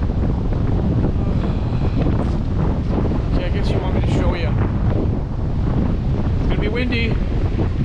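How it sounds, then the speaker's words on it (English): Strong wind on a beach roars steadily across the microphone, with a broad rushing noise and faint surf beneath, continuous and loud throughout. "Windy, it's gonna be noisy."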